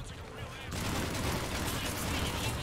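Rapid automatic rifle fire in a sci-fi shooter game, Mass Effect 3, starting abruptly and continuing as a dense, unbroken burst of shots over a steady background.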